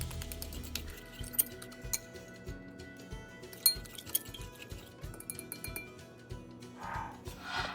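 A utensil stirs egg, salt and sugar together in a bowl, giving quiet, irregular clinks and ticks against the bowl, with a soft hiss near the end.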